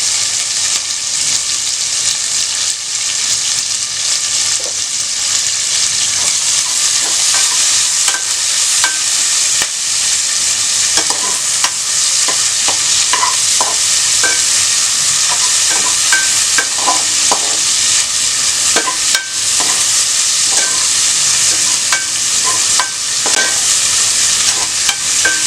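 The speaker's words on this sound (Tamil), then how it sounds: "ஒரு வெங்காயம் நீளமாக கட் பண்ணி வச்சுருக்கிறது நான் போட்டுக்கிறேன்" Sliced onion and curry leaves frying in hot oil while being stirred, a loud continuous sizzle with scraping stir strokes throughout and no voices.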